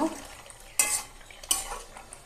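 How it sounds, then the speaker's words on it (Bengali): Two short scraping strokes of a spoon stirring Malabar spinach curry with shrimp in a pan, each a brief metallic rasp against soft, faint background hiss between them. "একটু নেড়ে নেব"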